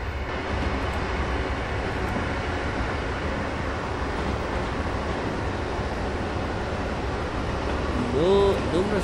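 An Acela Express train in Train Simulator runs along the Northeast Corridor with a continuous low rumble and rolling rail noise, and a brief tonal horn-like sound near the end.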